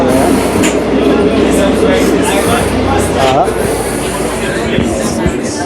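A Ugandan passenger train running, a loud, steady rumble and rattle of wheels and carriage heard from inside throughout, with people talking over it.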